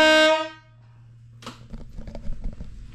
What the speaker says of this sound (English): put my own air horn in there because I like to make some noise